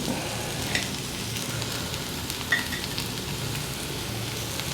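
Spring onions frying in a pan for a cherry tomato curry give a steady, close sizzle, with a couple of small pops and light clinks near the start and middle, and no voices.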